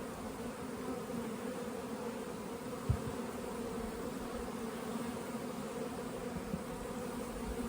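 Honey bees in a hive with brood and stored syrup, a dense steady buzzing hum up close, faint but continuous, with a single soft knock partway through.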